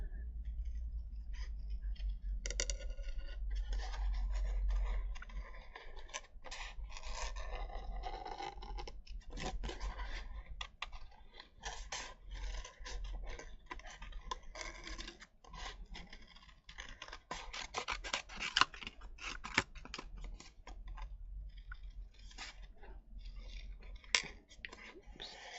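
Thick card is cut around a cup-shaped border at a craft table, heard as a close, irregular run of sharp snips and scratchy clicks with brief pauses. No one speaks.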